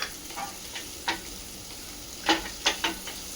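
Onions and hand-crushed potato fry in a pan as a spoon stirs them with sambar masala. A soft sizzle runs underneath, and scattered scraping clicks from the stirring sound close by.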